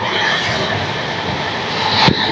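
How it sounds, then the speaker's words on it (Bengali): A passenger train is moving at good speed on an Indian railway, heard from inside the coach as a loud, even rumble and rattle, with a brief louder knock near the end. "ট্রেনটা ভালো স্পিডে যাচ্ছে।"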